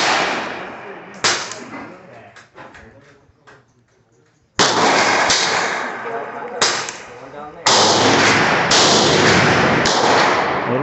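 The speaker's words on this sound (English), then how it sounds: "We're shooting 150 yards away." Several loud, sharp rifle shots from a 7 mm Remington Magnum Savage 110 fired at an outdoor range, each followed by a long decaying roar, with a person talking in between.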